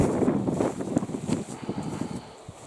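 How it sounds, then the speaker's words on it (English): Strong gusty wind buffets a kitchen garden, coming through as uneven low rumbling surges and rustle that rise and fall over a few seconds. "It's so windy again today."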